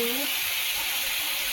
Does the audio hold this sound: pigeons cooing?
no